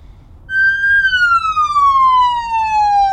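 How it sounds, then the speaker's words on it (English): The siren of a UDOT incident management truck gives a single loud, close wail that starts abruptly, holds briefly, then slides steadily down in pitch. "everyone who gets to check out the truck wants to play with the siren"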